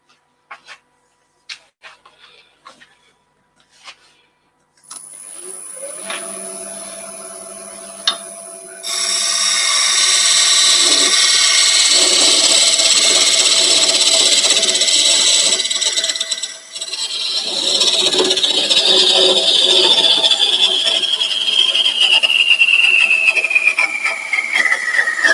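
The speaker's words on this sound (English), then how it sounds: "I'll just get this parted off, just so you can see what it's like once I find my parting tool." A wood lathe parting off a turned box: a few scattered taps, then the lathe motor whines up and runs steadily while the parting tool cuts with a loud, sustained scraping hiss.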